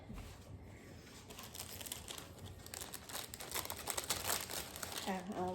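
Crinkly plastic packaging being handled up close, a steady rustle that grows busier toward the end, with a voice briefly audible at the close.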